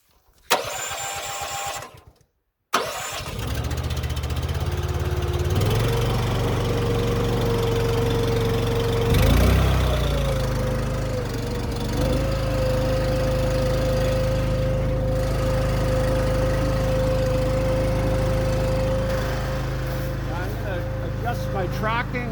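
A Redrunner wood processor's engine sputters briefly, cuts out, then catches and settles into a steady, loud running drone that holds unbroken to the end.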